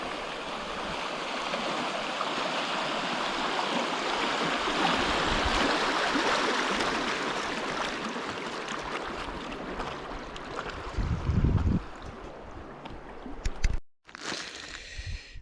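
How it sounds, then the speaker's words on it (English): Paddleboard riding through small rapids on the River Wye, with a continuous close rush of churning water and a few knocks and splashes before a brief cut and a quieter stretch of flowing water. "fun little rapids like this"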